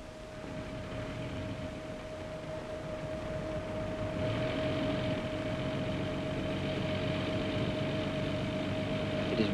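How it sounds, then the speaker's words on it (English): A petrol engine running on a test bed at a fixed speed, rated at 20.3 brake horsepower, gives a steady, even mechanical drone with a constant tonal hum, heard alone and without pause throughout. "Here is an engine on test."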